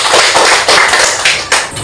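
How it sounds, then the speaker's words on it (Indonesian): A classroom of students applauds, a short spell of loud, close, uneven clapping with a few sharper slaps. "Tepuk tangan."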